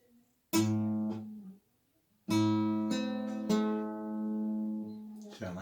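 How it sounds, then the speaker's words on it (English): Guitar with the 1st and 5th strings plucked together in triplets, a few close, bright plucked notes that ring out, then a pause and a longer ringing group, quiet and alone. "Pluck in that 1st and 5th string together"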